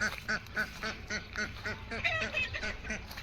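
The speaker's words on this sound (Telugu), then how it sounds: "ఇక్కడ బాతులు కూడా ఉన్నాయి" Ducks at a goat farm in Hawiyah, Taif, quack in a steady repeated run of nasal calls, moderately close, with faint outdoor background noise and no talking.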